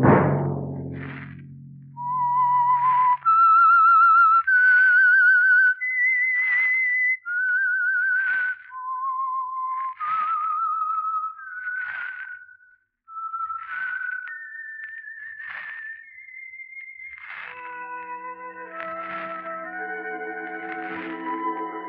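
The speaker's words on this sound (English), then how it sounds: "Let that whistle be your signal for the Signal Oil program, The Whistler" A radio drama's signature theme is whistled as a melody of clear, sustained notes with echo, rising and falling, then backed by an orchestral swell near the end; no speech.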